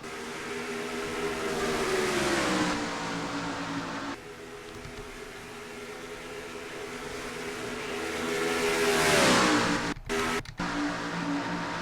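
American stock cars roar past on the Rockingham Motor Speedway oval in the NR2003 racing game, a dense pack of engines droning and rising and falling in pitch as they accelerate, loud and continuous with no talk.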